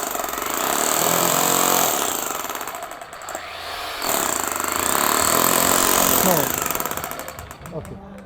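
A loud, sustained rattling Milwaukee rotary hammer drill pounds away in two long bursts with a short pause between, some voices faintly underneath.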